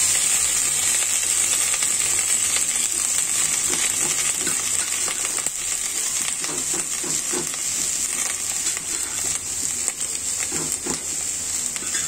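Onion leaves, chopped onion and small unpeeled potatoes dropped into a simmering beef curry, a steady loud sizzle and bubbling with scattered thuds and clinks from the added pieces and stirring.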